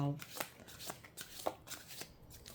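A deck of playing cards being shuffled up close in a humid home setting, a quick series of riffling, flicking card sounds repeating at an uneven pace, fairly quiet, with no voice over it.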